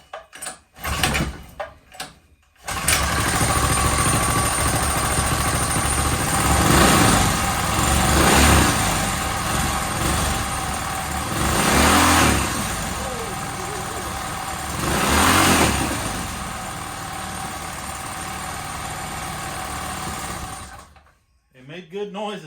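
Engine of a previously dead quad ATV running through its exhaust, a steady rough drone with several swelling revs, sounding loud and close after a few seconds of quiet, then cutting off near the end.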